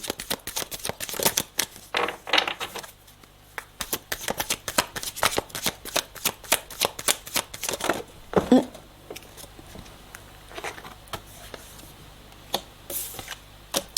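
Tarot cards are shuffled by hand in long runs of quick papery riffles and slaps, close and clear, with brief pauses and a soft knock partway through.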